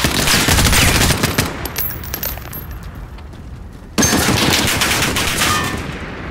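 Rapid machine gun fire from the video game Call of Duty: Modern Warfare, dense loud bursts with brass clinking, easing off briefly and then resuming abruptly at full intensity.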